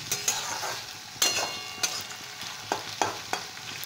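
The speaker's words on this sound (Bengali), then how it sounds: "আমি পেঁয়াজটাকে হালকা ভাজা ভাজা করছি" Steady frying sizzle of onions and green chilies in a pan, broken by several sharp scraping strokes of a spoon stirring the food, close and fairly loud.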